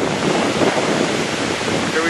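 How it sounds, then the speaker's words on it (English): Salt Creek Falls, the second highest waterfall in Oregon, a steady loud roar of falling water mixed with wind buffeting the microphone, continuous and close. "Here we are at Salt Creek Falls."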